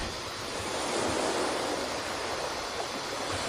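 Ocean waves break and wash in a continuous, broad rushing roar, steady and moderately loud without pauses, with no voices.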